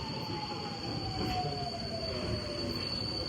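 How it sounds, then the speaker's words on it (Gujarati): An underground metro train pulls in, its wheels squealing in a steady high whine over a loud, continuous rumble that fills the platform. "બીજી ટ્રેન આવી ગઈ ભાઈ."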